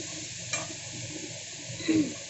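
Spices stirred in a pan for a pork dish, a low sizzle under a couple of brief scraping stirs, fairly close and with no voices.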